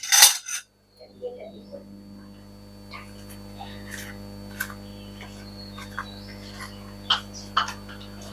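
Spoon scraping and scooping out the inside of pointed gourds (potol) for dorma: a sharp clink at the start, then scattered soft scrapes and small taps against a steady low hum, fairly close.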